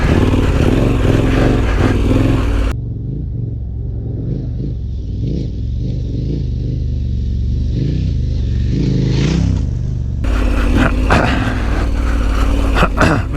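KTM 1290 Super Adventure R motorcycle on Michelin Anakee Wild tyres ridden off-road through deep whoops, its loud engine droning and revving steadily throughout, with wind rush and clatter at the start and end.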